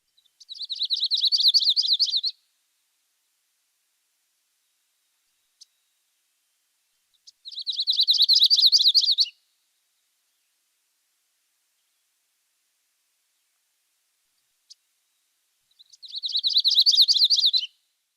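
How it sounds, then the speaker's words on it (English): Three separate songs of a yellow-rumped warbler, each a buzzy, high trill lasting about two seconds, repeated with long silent gaps between, clear and alone with no other sounds. "The yellow-rumped warbler."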